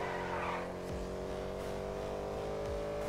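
A car engine revving hard and accelerating in GTA 5 during a drift challenge with an untuned car, a steady loud roar with rising pitch sweeps and gear changes throughout.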